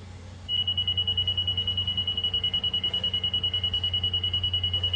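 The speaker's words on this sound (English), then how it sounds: "I'll turn the receiver on, and even as I drop it in here, you'll hear that it's going to give me an even tone when I hit 0." A Stabila LAX200 laser receiver emits a steady, continuous high-pitched on-level tone that starts abruptly and holds evenly, loud and close, over a low background hum.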